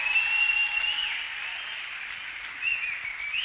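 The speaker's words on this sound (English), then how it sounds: "Can we clap our hands to Jesus?" A church congregation claps at a children's Sunday school service, a continuous even wash of many hands clapping, moderately loud and steady, with no voices standing out.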